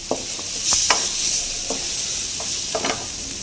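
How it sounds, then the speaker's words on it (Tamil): Two green chillies and masala powder sizzle in a pan for chana masala, a near hissing fry broken by several sharp scraping stirs of a spatula against the pan. "மசாலா போட்டு அதுவும் வதங்கணும்."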